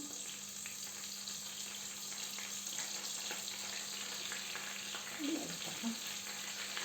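Butter melting in a pan for Turkish mıhlama, a soft continuous frying hiss held steady throughout, fairly quiet, with a faint brief voice-like murmur near the end.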